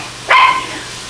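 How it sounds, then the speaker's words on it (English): One shrill, close bark from a small dog rings out briefly against a quiet room hum. "That little dog better shut its pie hole right now."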